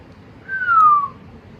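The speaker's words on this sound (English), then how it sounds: "The whistle blew." A referee's whistle at a soccer game gives one clear descending blast lasting about half a second, loud and close over a faint background hiss.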